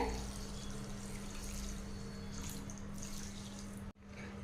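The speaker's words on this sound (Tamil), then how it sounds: "நம்ம சர்க்கரை எடுத்த டம்ளரில் ஒரு டம்ளர் வந்து தண்ணி சேர்த்திக்கலாங்க" Water poured from a tumbler onto sugar in a kadai for boondi laddu syrup, a steady broadband splash and trickle running continuously with a constant low hum beneath, ending in a sudden cutoff near the close.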